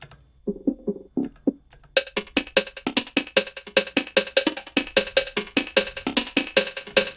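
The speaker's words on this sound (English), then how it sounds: "I put a bunch of processing on here, like delays and whatnot, and you end up with percussion" Choppy, metallic percussion hits repeat in a fast, steady rhythm with echoing delay tails, starting sparse and then becoming dense and driving.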